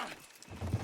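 Horse hooves clip-clop in Red Dead Redemption II as a team moves off, a brief patter of footfalls with a faint snort or whinny, close by and fairly soft.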